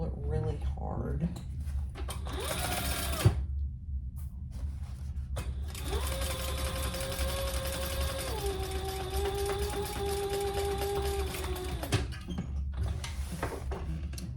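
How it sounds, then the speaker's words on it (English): A sewing machine top stitches a bottom gusset on a sling bag, its fast, even whirring running in bursts with short pauses under faint background noise. "you're top stitching on the bottom gusset"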